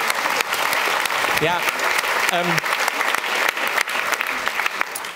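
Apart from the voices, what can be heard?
audience applause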